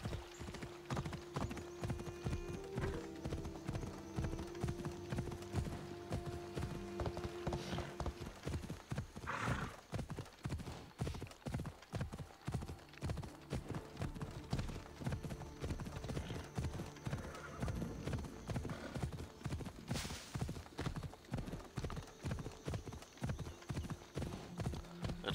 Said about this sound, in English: At least you have a horse